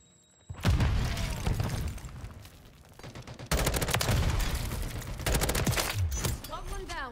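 Bursts of rapid gunfire and booming shots fill a gunfight in Call of Duty: Modern Warfare III, with an M16 among the weapons, loud and sustained, a short pause halfway, then more volleys.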